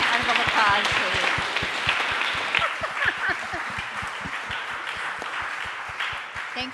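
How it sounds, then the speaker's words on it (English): A crowd applauds steadily, dense clapping that slowly eases off, with voices and cheers mixed in. "please give them a round of applause, please"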